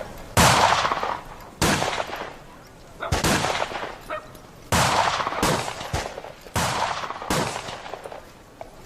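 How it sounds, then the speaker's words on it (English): Several loud gunshots ring out one after another at uneven intervals from the south end of a town, each sharp crack followed by a brief echoing tail. "Guys, I heard gunshots."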